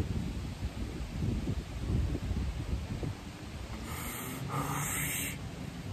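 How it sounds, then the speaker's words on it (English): Outdoor wind gusts past the microphone as a soft, fluctuating low rumble, stronger at first and easing toward the end, with faint rustling. "It's quite windy today"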